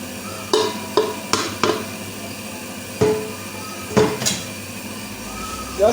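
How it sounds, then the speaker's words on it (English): Red velvet cake batter is mixed in a bowl as a flour mixture is worked in gradually. A spoon knocks against the bowl in sharp, irregular taps over a low, steady background. "Just mix it gradually like that until everything is well mixed and there is no lumps"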